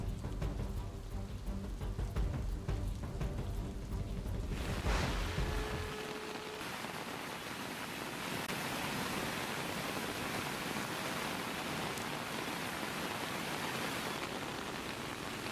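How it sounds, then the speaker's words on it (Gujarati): A torrential downpour in Navsari, Gujarat, during river flooding comes in as a loud, unbroken hiss of rain. It fills the last two-thirds of the stretch after a few seconds of different, tonal sound at the start. "નવસારી સહિત ઉપરવાસમાં ધોધમાર વરસાદ"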